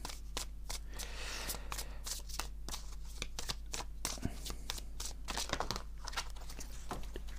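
Oracle cards are shuffled and drawn close up, with quick crisp riffling flicks and soft papery slides in a steady rhythm under a faint hum, and a voice speaking quietly now and then.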